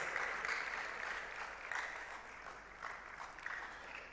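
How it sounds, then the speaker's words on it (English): Applause at a closing ceremony of a digital innovation week in Ghana, a large crowd clapping for the German Embassy; the sound is faint and distant, a continuous even wash of hands. "Definitely they deserve a round of applause"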